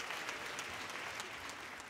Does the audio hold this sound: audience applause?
yes